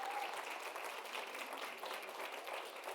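Audience at a business summit applauding, steady dense clapping throughout, faint and even.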